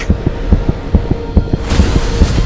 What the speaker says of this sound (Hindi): ये किसी इंसान के दिल की धड़कन नहीं है, मानो कि जैसे किसी मशीन से ऑपरेट हो रहा है।